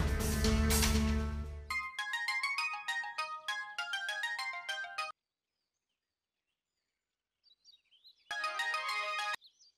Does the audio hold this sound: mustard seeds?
no